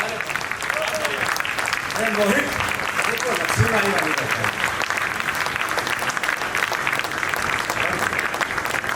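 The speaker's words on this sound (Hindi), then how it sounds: "दोनों हाथ उठाकर तालियां बजा दो।" Audience clapping for a young poet at a Durga Puja festival gathering, a dense, sustained wall of applause filling the hall while someone speaks over it through a microphone.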